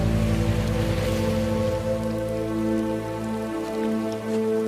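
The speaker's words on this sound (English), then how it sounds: "The next day quickly turns to rain, bad news for excavation." Steady rain falls on the ground at a World War One excavation site near Loos, a dense, constant patter heard alone and fairly loud throughout.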